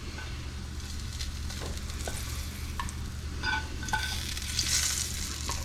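Mushrooms frying in butter in a pan, a continuous soft sizzle with scattered crackles and occasional utensil scrapes, close and fairly quiet.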